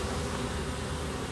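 Honey bees in a failing spring hive give a steady, close, dense buzzing drone that holds evenly throughout, with no voices.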